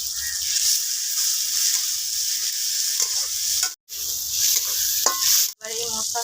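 Onion, tomato and ginger-garlic paste masala fries in a pan with a loud continuous sizzle, broken by a couple of brief silent gaps and spatula scrapes against the metal.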